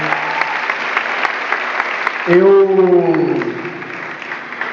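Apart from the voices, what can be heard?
audience applause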